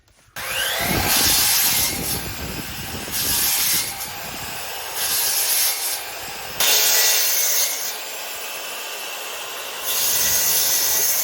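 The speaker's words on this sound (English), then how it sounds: "using the welder and my miter saw, just to kind of verify that it's going to run fine" Miter saw powered by an Anker SOLIX F3800 power station, cutting with repeated loud whining bursts over a constant motor hum, each cut a few seconds long, heard close.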